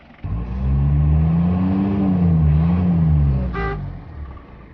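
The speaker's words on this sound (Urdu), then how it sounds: "اور پھر جیپ ایک بار پھر مسافروں کے لیے بلندی کے سفر پر روانہ ہو گئی" A passenger jeep sets off up a mountain road toward Saif Ul Malook lake, its engine revving loudly and close with a rising and falling pitch, a short horn toot near the end, then the sound fades.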